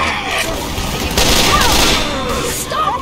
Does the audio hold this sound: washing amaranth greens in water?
no